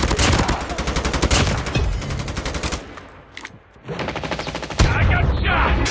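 Automatic gunfire in a Call of Duty multiplayer hardpoint match: loud rapid bursts that stop briefly for a quieter gap with a few faint sounds, then resume as sustained close fire, with game announcer voice lines mixed in.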